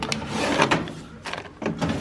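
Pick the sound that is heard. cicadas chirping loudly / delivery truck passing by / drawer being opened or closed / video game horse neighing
drawer being opened or closed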